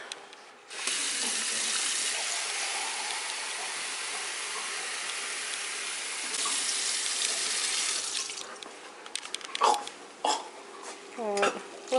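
Tap water runs steadily into a pan while pasta and shrimp are being cooked in a home kitchen. The flow stops partway through, followed by clinks of dishes and brief kitchen clatter.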